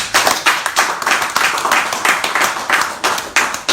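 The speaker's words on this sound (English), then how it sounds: "Please give them a round of applause" An audience at a live political gathering applauds guests. The clapping is loud and close and pulses unevenly with many hands, filling several seconds without speech.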